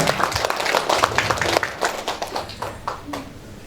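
An indoor audience claps at a nurses' association inauguration ceremony in Indramayu, producing a fairly dense wave of applause that gradually thins out over a few seconds.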